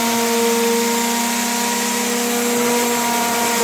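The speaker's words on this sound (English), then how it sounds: "you can run the edge with a sander just to roll it over just a little bit" Electric sander running steadily against the edge of a hardwood skateboard deck, rounding it over: a loud, continuous whirring hum with a high, tonal whine, close by and without a break.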